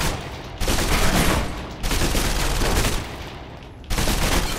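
Gunfire at shooting range targets in the video game Alpha Protocol: loud bursts of rapid automatic shots in three long volleys separated by short pauses.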